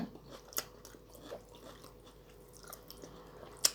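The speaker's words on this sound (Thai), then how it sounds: "มากินก๋วยเตี๋ยวน้ำกัน" Quiet close-up eating of homemade noodle soup, with a few soft bites, chews and slurps scattered across a few seconds and one sharper click near the end, all without talking.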